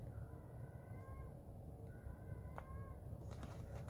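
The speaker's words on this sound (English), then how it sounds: "And I can hear a cat." An indoor house cat meows twice, faint and distant, its drawn-out calls about a second apart over a steady low background hum.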